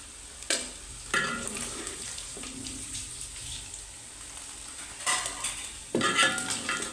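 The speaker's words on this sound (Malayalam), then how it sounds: "ഇനി അതൊക്കെ ഒന്ന് ചിക്കനൊക്കെ ഒന്ന് പൊരിച്ചെടുക്കുകയാണ്" Marinated chicken pieces deep-frying in a pan of oil: continuous bubbling sizzle broken by several sharp bursts and scrapes as pieces are dropped in or stirred and lifted out, close and moderately loud, no talk.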